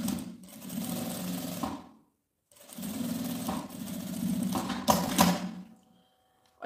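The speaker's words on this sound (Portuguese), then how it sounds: "E passo uma costura reta aqui," A sewing machine runs a straight seam to secure a fabric flap on a zippered pouch, two steady whirring runs separated by a brief pause, close and clear with no talking.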